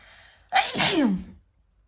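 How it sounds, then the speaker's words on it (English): A single loud sneeze bursts out after a brief quiet breath, close to the listener, followed by silence. "I'm gonna use a sneeze"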